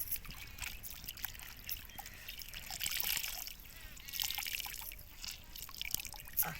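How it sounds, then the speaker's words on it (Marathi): Cold water trickles and splashes over cooked mustard greens, a light uneven pouring and dribbling under nearby chatter and kitchen handling, moderately faint throughout. "असं पाणी घालायचं थंड पाणी घालायचं"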